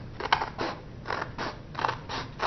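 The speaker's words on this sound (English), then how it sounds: "You can take a pair of scissors." Paper edges trimmed with a pair of scissors, a series of crisp cutting snips in an uneven rhythm, close and fairly quiet, with no talking.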